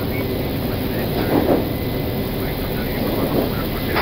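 Airbus A330-900neo jet engines roaring in reverse thrust during landing, a steady broad rumble heard from the cockpit, with crew voices speaking over it.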